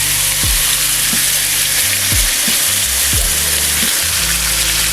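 Steak sears loudly in a very hot pot for a pot roast, a dense, steady sizzle close up with low clunks and scraping as the meat is placed and moved, no talking.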